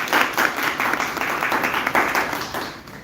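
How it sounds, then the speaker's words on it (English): Audience clapping for the Juliet team at a live debate on one nation, one election in India, a steady dense patter of many hands lasting throughout, fairly loud with no talk over it. "Please clap for Juliet team"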